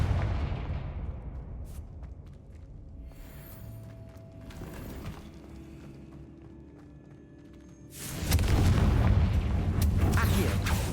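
In the game Hogwarts Legacy a Confringo spell goes off, first heard as a low rumbling with mechanical rattles, then a loud, sustained fiery blast near the end.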